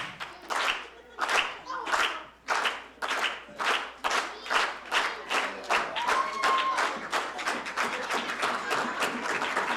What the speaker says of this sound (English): Daryl's going to start the slow clap.